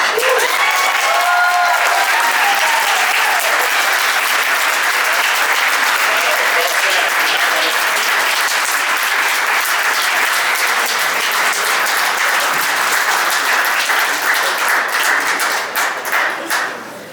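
A big round of audience applause at a Hall of Fame induction ceremony, loud and sustained clapping that fills the room evenly, with some cheering early on, before tapering off at the close.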